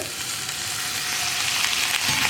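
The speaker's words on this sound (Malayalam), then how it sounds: "ഇനി നമുക്ക് ഇതിലേക്ക് തിളച്ച വെള്ളം ചേർത്ത് കൊടുക്കാം" Boiling water poured into an onion-tomato masala frying in a pan, a loud, dense, hissing sizzle that stays steady and close for a couple of seconds with no voices.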